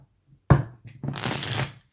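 A sharp snap of cards followed by a quick riffling flutter as a deck of tarot cards is shuffled, close up, with no talking.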